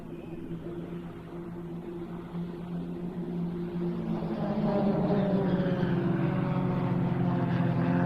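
Aerobatic display aircraft of the Royal Jordanian Falcons at the RIAT airshow, a propeller drone that builds steadily louder and closer over several seconds as the team finishes its final manoeuvre, with no voices.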